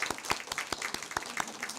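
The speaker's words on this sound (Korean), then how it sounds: "악기로 봉사하시는 우리 오케스트라 팀에게 감사의 박수," A church congregation applauds its volunteer orchestra during a Sunday service: steady, moderately distant clapping from a crowd, with sharp individual claps rising over a soft continuous patter for a couple of seconds.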